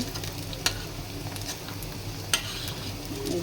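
Corn fritters (piyaju) made with tender corn fry in hot oil with a steady, soft sizzle throughout, broken by two brief sharp utensil clicks near the pan.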